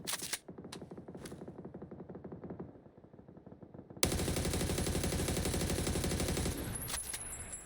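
An AUG assault rifle fires in full-auto bursts in PUBG, rapid evenly spaced cracks at first, then a brief lull before a louder, dense stream of shots that runs on to the end with no talking.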